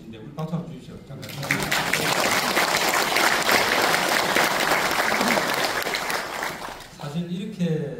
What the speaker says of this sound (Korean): 우리 권오을 보훈부 장관님도 와 계신데 우리 박수 한번 주십시오